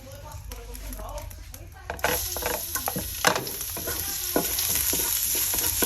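Oil sizzles in a frying pan while cooking bistek-style bangus, a low crackle that jumps to a louder, steadier hiss with scattered pops and stirring clatter, close by.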